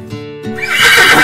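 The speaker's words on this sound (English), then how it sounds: "H is for horse." A horse neighs loudly, starting low and rising into a bright, shrill whinny that fills the second half of the clip.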